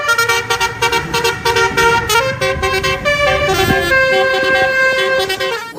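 A toy telolet bus horn tooting a loud, close musical melody of bright tones, fairly rhythmic with steady repeated notes, heard alone without any voices.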